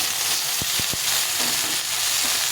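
Pointed gourd and ridge gourd pieces fry in a pan with green chilli, a loud continuous sizzle up close, broken by a few quick dull knocks of stirring.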